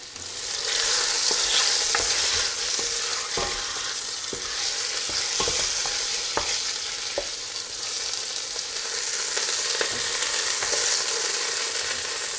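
Pieces of meat for Irish stew searing and browning in a hot pan, giving a loud, dense sizzle that runs throughout, with irregular spatula clicks and scrapes as the pieces are turned.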